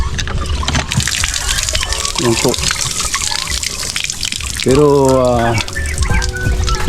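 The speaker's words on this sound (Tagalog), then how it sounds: "tatapat ko lang po itong pipe, mapapatubigan ko na po siya" Water flows from a pipe into an azolla pond, a continuous splashing trickle close by, while a person speaks briefly over it.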